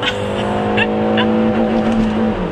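A 2015 Peugeot 308 GTi engine revs hard to the rev limiter and climbs in pitch as it accelerates, loud and close, with a steady rising drone.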